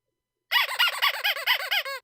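Rapid sequence of roughly nine sharp squeals from a plastic squeaky toy being squeezed, close and bright with a wavering pitch, pulsing evenly and then stopping, no speech present.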